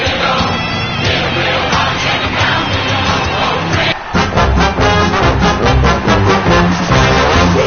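An AFL match crowd cheers and roars, a loud, sustained wall of massed yelling and whooping with rhythmic shouting surges toward the end.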